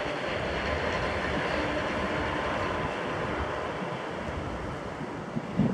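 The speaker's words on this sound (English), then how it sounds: "Wait, there's the monorail." A Disney World monorail passing, heard as a steady rumbling rush with wind-like noise at constant loudness throughout, fairly close.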